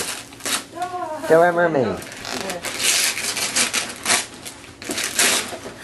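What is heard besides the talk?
wrapping paper being torn off a gift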